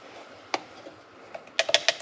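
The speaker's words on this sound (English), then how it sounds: "You do want to stir your grinds." Wet coffee grounds being stirred inside an AeroPress, giving scattered light clicks and taps of the stirrer against plastic, quiet and close, with a brief cluster of quicker taps near the end.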